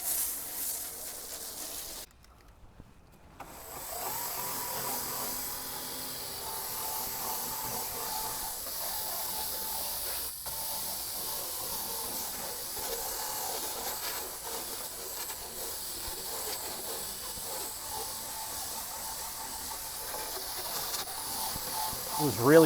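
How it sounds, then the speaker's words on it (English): Long continuous hiss of wheel-cleaning foam sprayed from a pressurized foamer during a wheels-off detail of a Shelby GT350R, briefly pausing early on, then steady spraying close by. "we're going to start spraying this all down and scrubbing it"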